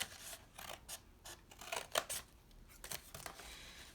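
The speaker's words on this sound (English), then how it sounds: "I get my scissors in there and I just make cuts to the end of my circle" Scissors make short crisp snips into the edge of a paper plate, a quiet close-up run of uneven cuts with small gaps between them.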